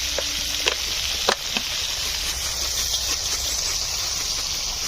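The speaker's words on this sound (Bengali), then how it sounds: "এই টাকায় মাছ ভাজা হচ্ছে, মুড়ো কটা আলু ভেজে নেওয়া হচ্ছে" Fish head pieces and potatoes fry in a pan with a steady, hissing sizzle, interrupted early by a few clanks and scrapes from turning them.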